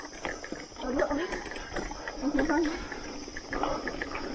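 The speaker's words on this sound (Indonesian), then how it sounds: "Salah satu bagian seru adalah saat kita ngelewatin air terjun kecil di pinggir jalan." A small roadside waterfall on a gravel mountain-bike trail near Cisadon splashes faintly and steadily, with voices murmuring over the water.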